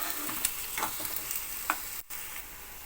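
Onion frying in oil sizzles steadily, with soft spatula stirs and scrapes at intervals and one short dropout, heard close with no voices.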